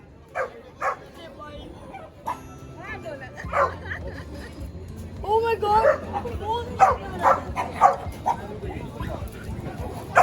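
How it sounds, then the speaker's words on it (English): Several dogs fight outdoors at a beach resort, with repeated sharp barks, yips and whimpers building in intensity, close and loud, while people shout and talk excitedly over the commotion. "Dog fight, guys!"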